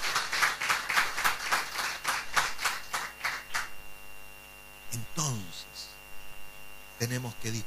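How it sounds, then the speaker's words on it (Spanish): A church congregation claps in a dense burst of applause at a Sunday service, then it thins out and a voice speaks over a steady electrical hum, with a few more claps near the end. "Dele un aplauso al Señor por eso."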